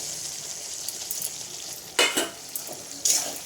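Fried eggplant stirred in an oily frying pan, a constant close sizzle with two distinct scraping clatters of utensil on metal near the end, no voices.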